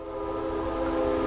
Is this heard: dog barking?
no